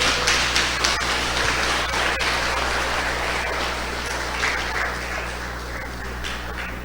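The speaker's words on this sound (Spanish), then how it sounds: "Dale un fuerte aplauso a Dios entonces." A church congregation in a Spanish-language service claps together in a sustained, rain-like patter of many hands that eases slightly toward the end.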